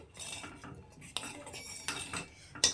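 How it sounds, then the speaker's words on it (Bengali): A spoon clinks and scrapes against a pan, stirring homemade ghee into a flour and milk mixture, with several brief metallic taps standing out over quiet shuffling. "এটাকে খুব ভালো করে মিশিয়ে দিয়েছি"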